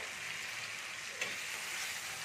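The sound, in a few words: stirring chicken with masala frying in a pan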